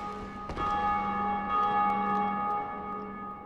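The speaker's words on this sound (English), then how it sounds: "I heard a bell." A church-style bell tolls in the Lower Undead Burg area of Dark Souls, one bright sustained ring with long humming overtones that hold steady and slowly fade, with no talk over it.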